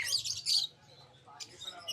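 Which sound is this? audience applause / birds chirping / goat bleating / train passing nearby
birds chirping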